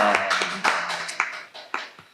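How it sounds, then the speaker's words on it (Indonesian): A small group gives brief applause during an Indonesian talk-show interview: a handful of sharp, scattered hand claps over about two seconds, moderately close, with no talk. "Tepuk tangan dulu."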